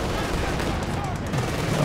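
Rifle grenades and small-arms fire crackle through a World War II battle in Company of Heroes 2, a dense, continuous barrage of shots and blasts with no pauses.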